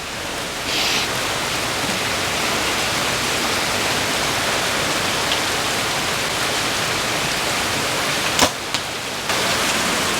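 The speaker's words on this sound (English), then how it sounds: "I said it was gonna rain." Steady rain falls in a thunderstorm at an outdoor archery practice spot, a dense continuous hiss lasting throughout, with a couple of sharp brief knocks near the end.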